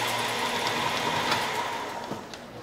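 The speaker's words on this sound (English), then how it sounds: "Similar to a sewing machine, the farther the operator presses the foot pedal, the faster the taping process." An automotive wiring harness taping machine, pedal-controlled like a sewing machine, runs continuously with a fast, even mechanical whir and rattle, close up and fairly loud, alone without talk.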